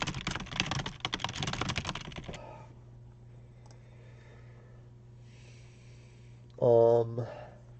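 Fast typing on a computer keyboard, a dense rapid clatter of keystrokes lasting about two seconds, close and clear, then quiet before a brief burst of voice.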